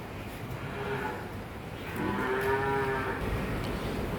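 Cows mooing inside a cattle shed, with a pregnant cow among the herd; a couple of long, fairly loud, nearby moos rise over steady background shed noise, with no one talking.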